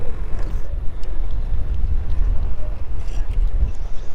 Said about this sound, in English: Can it not be windy for once?